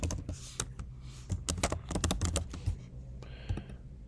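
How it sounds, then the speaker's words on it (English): Fingers tap out a name on a computer keyboard in quick, irregular clusters of crisp, close keystrokes, then slow to a few scattered presses. "We'll type our name."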